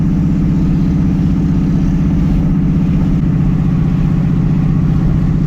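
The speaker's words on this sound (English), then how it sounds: "Well, the truck runs and drives. It's super loud, but it runs and drives." A loud LS-swapped truck engine runs with no muffler fitted, a steady deep rumbling drone that holds close and constant throughout, with no talk over it.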